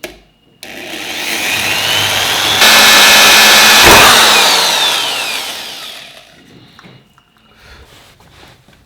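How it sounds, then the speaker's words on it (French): A power drill bores a hole into a wall-mounted minimalist shelf and hanging plant holder, a loud steady whine that rises and holds for several seconds, then winds down and fades to quiet handling. "je vais percer ça ici."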